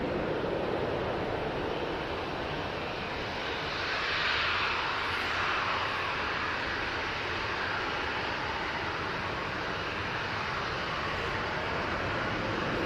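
A TUI airliner departing Manchester Airport for Corfu thunders with a sustained jet roar, swelling around the middle and then holding a strong, even rumble throughout.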